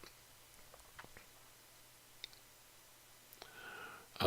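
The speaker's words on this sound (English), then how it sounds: "click insert" Faint, sparse clicks of a computer mouse sound in a quiet room, a few isolated taps spread out over several seconds with near-silence between them.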